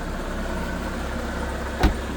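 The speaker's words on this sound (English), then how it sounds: "Listen to that motor. Sounds great." A kei truck motor idles steadily with a smooth, even hum, close and moderately loud, broken only by a brief knock or thump near the end.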